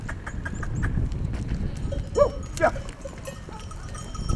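Honamlı goats stirring and shuffling on a farm, with a few faint bleats rising briefly over a busy low rustle of hooves and movement, distant and moderately quiet throughout.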